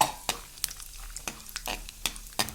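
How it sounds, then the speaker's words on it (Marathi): Peanuts sizzle and crackle in hot oil in a kadhai on a gas stove, with repeated sharp stirring scrapes over a steady frying hiss, close and moderately loud. "तेल गरम झाले, शेंगदाणे फ्राय करून घेऊयात।"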